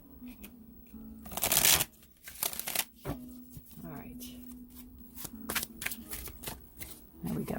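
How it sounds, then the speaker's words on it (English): A deck of tarot cards is riffle shuffled by hand, with a loud fluttering burst of cards near the start followed by lighter taps and riffles as a person talks quietly. "They're telling me to riffle shuffle one more time."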